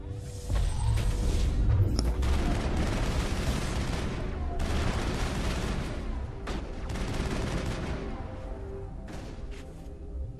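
Dense, sustained automatic gunfire during a firefight in the video game Mass Effect, loud and near, with booming impacts layered underneath for several seconds and only brief lulls.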